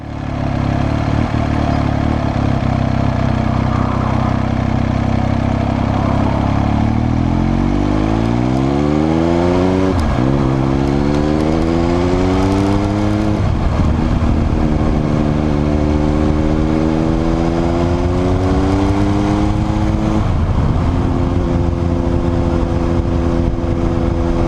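A motorcycle accelerating hard on the road after overtaking, its engine loud and close as the pitch climbs steadily through several gear changes, with continuous wind rush throughout.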